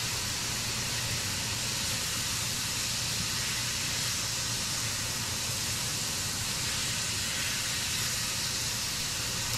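Meat browning in a pan for a ragu Bolognese, a steady, dense sizzle and hiss that holds evenly throughout without breaks or talk.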